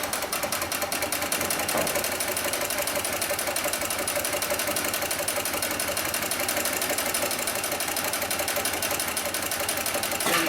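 A heavy-duty sewing machine stitches through four layers of webbing, a rapid, steady mechanical chatter of needle strokes running loud and unbroken throughout.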